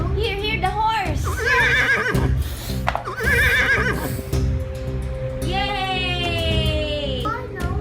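Toy horse giving repeated electronic neighs and whinnies, two rising-falling bursts followed by a longer warbling whinny, close and loud, with children and adults talking around the sounds.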